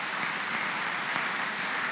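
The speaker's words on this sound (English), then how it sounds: "Clap for Jesus" A church congregation bursts into sustained applause, a steady, dense roar of many hands clapping together at even loudness throughout, with no talking over it.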